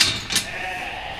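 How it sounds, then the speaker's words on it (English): Empty ewe hogs, freshly mixed in with feeding hogs at lambing time, bleat in two quick close calls over a low background of farm noise. "A lot of noise over the other side because we've just put the empty ewe hogs in with the feeding hogs"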